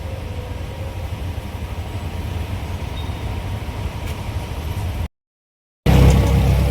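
Continuous roar of road traffic near Vashi station heard from inside a moving vehicle, broken by a brief silent gap before the rumble returns louder.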